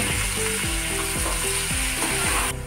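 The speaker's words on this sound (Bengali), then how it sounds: "আলুটাকে ভালো করে ভেজে নেব।" Potatoes fry in a pan in white oil with salt and turmeric: a loud, steady sizzle with a rhythmic scraping of stirring runs throughout, with no talking.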